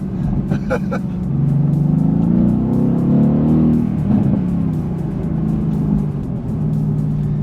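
A Mercedes-AMG GT S engine in Sport Plus mode revs hard and growls loudly, rising and holding a deep throaty roar before easing off, with clicking noises near the start.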